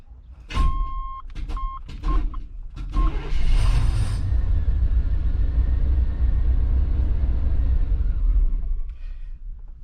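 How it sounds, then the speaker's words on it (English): An OBS Chevrolet Blazer starts after several quick chime beeps, its engine rumbling loudly and steadily close by for several seconds before dying away. "it starts, runs for a little bit, shuts right back off"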